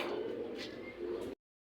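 Pigeons kept in a loft in winter coo softly nearby, a low throaty murmur lasting just over a second before cutting off into silence.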